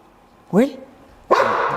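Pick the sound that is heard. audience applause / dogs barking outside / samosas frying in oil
dogs barking outside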